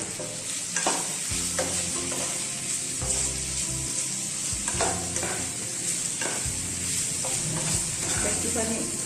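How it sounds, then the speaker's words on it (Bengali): Salted food fries in a pan at home, giving a steady close sizzle broken by repeated scraping and stirring strokes, with a faint hum beneath. "একটুখানি হালকা করে ফ্রাই হবে।"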